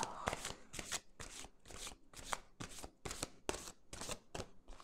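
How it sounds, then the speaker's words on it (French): Slippery oracle cards being shuffled in bursts, about ten quick riffling swishes with some cards falling, close and fairly quiet with no talking. "j'ai plein de cartes qui tombent. Il faut dire qu'elles glissent beaucoup, ces cartes."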